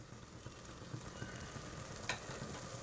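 Mint and coriander paste frying and being stirred in a pan while cooking bread palav, giving a steady close sizzle with soft scraping strokes throughout and no talking.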